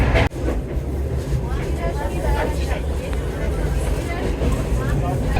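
Low, steady rumble and rattle of a moving train heard from inside a carriage, with a sharp knock near the start and murmuring voices beneath.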